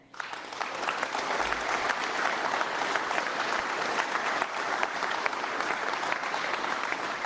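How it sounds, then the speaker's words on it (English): Crowd applause at a Liberal political rally in Oakville, thick sustained clapping that holds steady and loud for the whole stretch, with no break or fade. "please keep clapping"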